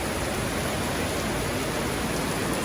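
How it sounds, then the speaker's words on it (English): Heavy rain pours steadily outside a house in the Philippines, a dense, continuous hiss with no breaks, close and fairly loud throughout. "It's pretty heavy rain."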